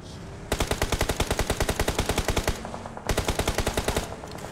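Rapid automatic gunfire from a video game crackles in two long, evenly spaced bursts, loud and close, with a brief pause between them and no talk over it.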